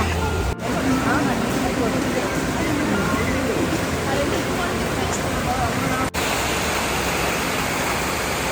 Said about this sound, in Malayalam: അവിടേക്ക് തന്നെ ഈ ഒരു വാട്ടർഫാൾസിന്റെ ശബ്ദം നന്നായിട്ട് കേൾക്കാണ്ടായിരുന്നു